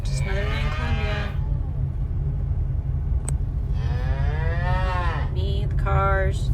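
Cattle low with drawn-out moos beside a road in Colombia, two long calls with a short third, loud and close over a steady rumble of passing traffic.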